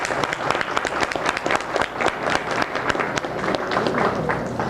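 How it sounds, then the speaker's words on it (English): A banquet crowd at the annual Co-op awards applauds the presentation, a thick, sustained wash of many hands clapping at moderate loudness throughout, with no speech over it. "Round of applause, please."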